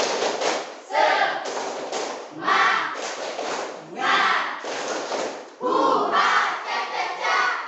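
A school class performs tepuk semangat, a chanted clapping routine, with many voices shouting together in loud bursts over group claps, pausing briefly between phrases.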